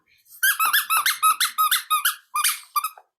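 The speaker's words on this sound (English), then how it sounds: "once the squeaky toy comes out" A dog's squeaky toy squeaks loudly and close up in a quick series of about a dozen sharp, rhythmic squeals with brief pauses between them.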